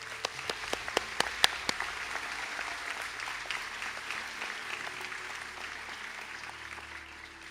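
An audience at an ATU Sligo conferring ceremony applauds for academic excellence awards; a few distinct early claps swell into steady, fairly distant applause from a large hall.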